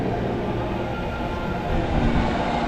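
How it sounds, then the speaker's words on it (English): The Hogwarts Express theme park train at Islands of Adventure, a loud, steady rumble and roar of rolling rail cars heard close up, with no talk over it. "Oh, there's the train."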